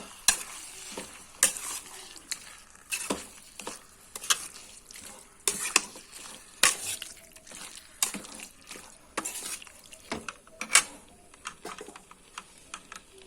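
Chicken pieces coated in jeera masala sizzle and fry in a pan for a Mangalorean chicken sukka, with repeated loud scrapes and clatters of a spatula stirring throughout, steady frying crackle underneath, and no talking.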